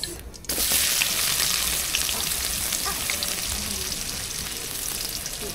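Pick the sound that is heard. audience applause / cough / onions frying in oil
onions frying in oil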